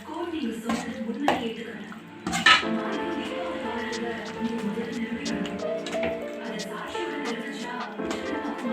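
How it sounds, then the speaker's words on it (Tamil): A spoon stirs mashed elephant foot yam in a pan with irregular scraping and clinks of metal on the pan, while a person speaks throughout. "நல்லா கிளறி விட்டுக்கலாம்."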